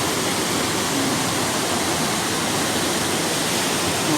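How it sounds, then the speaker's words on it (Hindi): Water from Davis Falls flows through the inside of Gupteshwar Cave in Pokhara, making a steady, dense, loud rushing roar that fills the space without a break. "ये डेविज फॉल वाला पानी अंदर अंदर ही यहाँ आ रहा है।"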